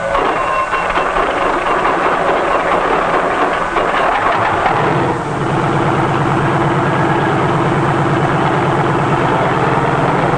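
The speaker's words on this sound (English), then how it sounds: "A self-starter starts the engine, and after a careful warm-up, we're ready to take to the air." A heavy helicopter engine, started by a self-starter, runs loudly and continuously, its tone shifting midway into a steadier, rhythmic low drone as it warms up.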